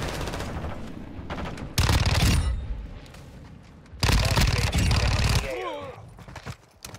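Fennec 45 SMG fire in the video game Modern Warfare 2, heard as two loud rapid-fire bursts of about half a second each, with quieter game sounds between them and chirpy effects after the second.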